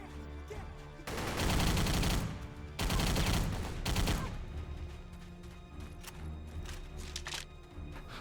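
Rapid video game gunfire from several weapons in a room full of enemies, loud and dense in two long bursts with brief gaps, then quieter scattered shots and effects.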